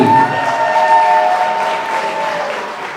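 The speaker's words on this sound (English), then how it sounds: "let's give them a big round of applause" Wedding guests at a walima reception clap together in a short, loud burst of applause, with a few cheers mixed into the crowd noise.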